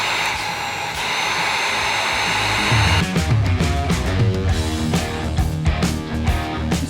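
A heat gun blows a steady loud hiss as it shrinks heat shrink tubing onto a crimped ground wire, the tone shifting after about three seconds into a rougher, fluttering roar that continues to the end.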